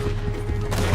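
Video game gunfire comes as a loud, dense burst of rapid shots that run together into a booming rattle for about a second.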